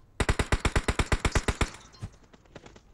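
Sniper and automatic gunfire in the video game PUBG: a rapid burst of about a dozen loud, evenly spaced shots, followed by a few scattered, fainter reports.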